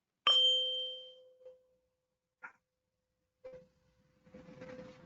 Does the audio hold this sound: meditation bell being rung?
yes